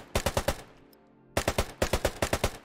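A Type 96/99 machine gun in Squad 44 fires loud, close bursts: a quick run of about five shots, a short pause, then two more rapid bursts in steady rhythm.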